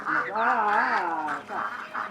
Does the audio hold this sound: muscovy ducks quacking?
yes